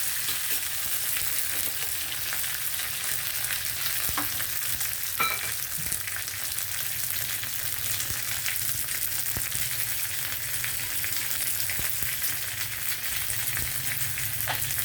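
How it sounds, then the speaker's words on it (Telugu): Red chillies, curry leaves and coriander crackle in hot oil as a tempering for sambar, a steady close sizzle with light stirring scrapes running for about fifteen seconds, no voices. "వేగిపోయిందండి తాలింపు"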